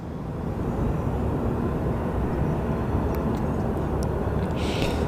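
A jet airliner on the flight to Sacramento roars steadily and loudly at Phoenix Sky Harbor airport, a continuous broad engine rumble running throughout with faint higher hiss and a few small ticks near the end, no voices.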